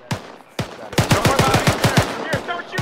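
Gunfire during a simulated combat engagement: a couple of single shots, then a rapid string of about ten sharp cracks in quick succession, followed by a few more spaced shots, loud and close.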